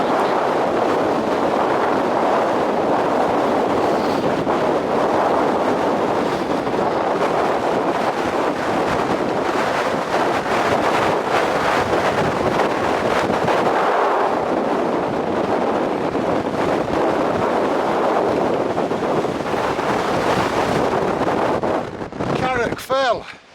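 Strong wind roars across a steep, exposed fell top in the Lake District's Northern Fells near Carrock Fell, a loud, steady buffeting rush against the microphone lasting throughout with only brief dips.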